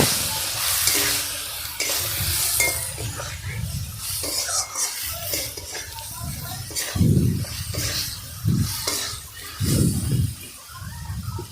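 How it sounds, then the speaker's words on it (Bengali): Pieces of brinjal fry in hot oil in a kadai, giving a steady sizzle broken by repeated scraping stir strokes, close by, with a little voice in the background. "কড়াইতে তেল দিয়ে বেগুনটাকে প্রথমে ভেজে নেব।"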